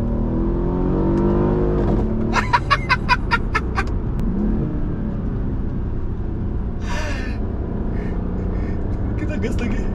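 A Mercedes-Benz sedan in manual mode launches hard from 3000 rpm, with a loud engine roar and quick gear-change pulses under steady road noise, heard from inside the cabin while people talk.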